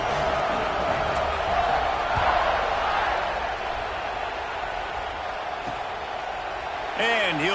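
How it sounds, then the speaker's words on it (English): A football stadium crowd buzzes after a score, a steady broad roar from the stands that stays constant under a commentator's voice. "this crowd is buzzing after that last score."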